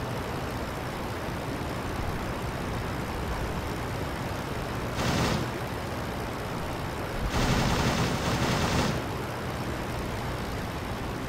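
Aircraft machine guns in a WWI flight game rattle over a steady engine drone, first in a brief burst and then, after a pause, in a longer sustained volley of rapid fire.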